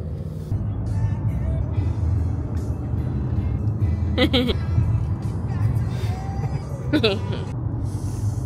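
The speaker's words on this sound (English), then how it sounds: "So this traffic has been going for about, I'd say, a kilometre now." A car crawls through slow, congested city traffic, its engine and road noise a steady low rumble, with brief higher squeals and people talking inside the car.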